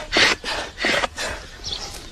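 An antique Star carpet sweeper pushed over a floor, giving three or four rough, brushy rubbing strokes in a steady back-and-forth rhythm, close and fairly loud with no talking.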